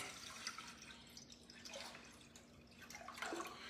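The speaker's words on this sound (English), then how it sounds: "I'm gonna put some water inside of my pot here" Water running into a cooking pot for rice, a faint continuous trickling with light splashes over a few seconds, heard close but low in level with no voices over it.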